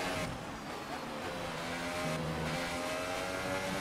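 Racing engine whine from the F1 2019 video game as the car closes on and overtakes a Ferrari down a long straight, a steady high-pitched roar with harmonic drone and rising revs throughout.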